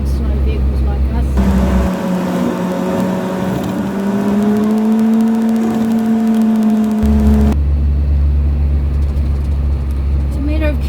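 A tiny house truck labours up a big hill in New Zealand, its engine droning steadily with a rising whine that climbs in pitch under a constant low rumble, loud and close throughout.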